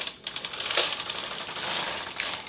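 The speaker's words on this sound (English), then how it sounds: "I'm going to take the knitting machine outside of the turn mark, turn it to KC," A Brother KnitKing 270 bulky knitting machine carriage is pushed across the needle bed, giving a steady, close mechanical rattle and clatter that runs nearly unbroken, with a brief drop near the start.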